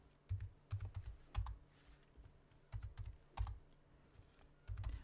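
Spreadsheet data is typed on a computer keyboard in quick bursts of soft, close key clicks with short pauses between them, quiet and with no talk.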